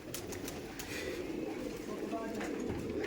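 Giribaz pigeons coo softly inside a loft in Murshidabad, West Bengal, several birds murmuring together under people talking nearby.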